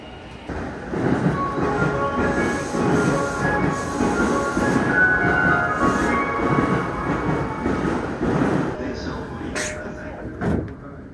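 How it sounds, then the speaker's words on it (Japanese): A Keihin-Tohoku Line local train bound for Omiya runs near Hamamatsucho Station with a steady, close rumble, clicking wheels and a faint tonal whine. A brief higher squeal comes near the end. "この電車は京浜東北"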